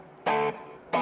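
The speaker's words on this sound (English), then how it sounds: "But I always have this AC booster. I just got a new one. It's a version 2, V2. Yeah. So you can hear a little bit of distortion." Electric guitar run through an AC Booster V2 distortion pedal and a delay pedal, two short, loud, lightly overdriven chords with a harmonically rich ring, the first held about a quarter second before fading into a soft tail.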